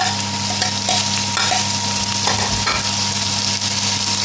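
Chopped onions fry in a hot pan as the first stage of a beef mince keema curry, giving a steady, close sizzle and crackle that runs unbroken throughout, with no voices.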